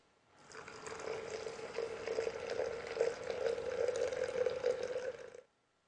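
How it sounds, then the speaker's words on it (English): Heated water pours steadily into a French press for about five seconds, a close, continuous liquid rush that fills the glass before stopping abruptly. "Now all you do is pour your heated water into the press and let it steep for 4 minutes."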